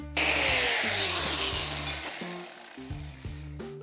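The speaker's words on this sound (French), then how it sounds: "tant que je suis à la disqueuse, je coupe aussi celle de 10." An angle grinder cuts through a 10 cm metal bar for a car transmission tunnel, a loud close whining screech that slowly drops in pitch before the motor winds down and stops near the end.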